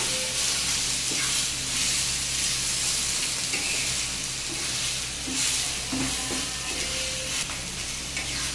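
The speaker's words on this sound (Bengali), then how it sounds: "এই যে জালি কুমড়া কুচিয়ে রেখেছিলাম, ওটার ভাজি হচ্ছে এখন।" Chopped ash gourd frying in a pan with black cumin, salted and coated in turmeric, gives off a steady, loud sizzle and hiss with occasional stirring scrapes, heard alone throughout.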